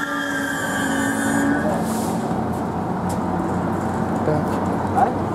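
A Lastochka electric train rolls through MCC Izmaylovo station on the Moscow Central Circle, giving a loud, sustained rumble with humming, whining tones that fade toward the end, as a crowd murmurs faintly nearby.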